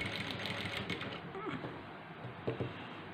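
A sewing machine stitches the neck of a blouse, its needle chattering in a steady rapid run that slows and then stops, with someone speaking over it.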